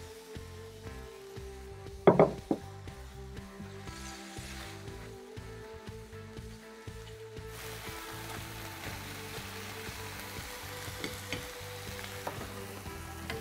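Chicken and mushrooms fry in a pan with a steady, moderately loud sizzle and crackle, broken by a sharp clatter of stirring or tossing early on and occasional small pops.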